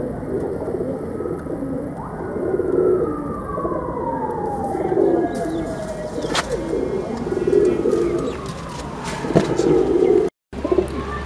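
Flying pigeons kept in a group of sixteen or seventeen birds, including young ones, coo softly and repeatedly. A rising and falling siren-like tone passes in the background, and no one speaks.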